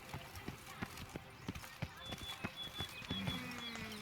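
Horse hooves clip-clop steadily in The Witcher 3, a quick run of hoofbeats moving at a trot beneath faint game ambience, with a voice talking at the same time.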